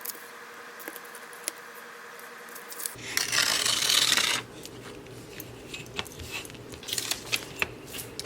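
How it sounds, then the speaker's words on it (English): Paper being cut to size for a scrapbook pocket page, a burst of rasping, rubbing cutting noise in the middle with quieter handling and small clicks before and after. "now we're going to continue to cut this to 4 inches"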